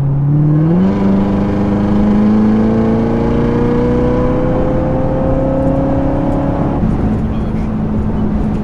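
Corvette C7 ZR1 V8 engine note while driving, a loud sustained drone that rises steadily in pitch as the car pulls, with a shift-like drop near the start and a lift-off toward the end.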